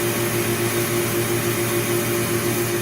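A shredder machine runs steadily while shredding plastic bags, a loud continuous mechanical whir and hum with constant level throughout and no talk.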